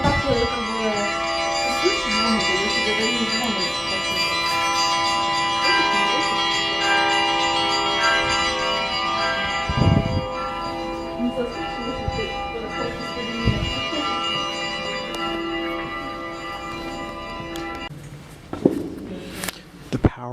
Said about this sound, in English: So these are the church bells ringing.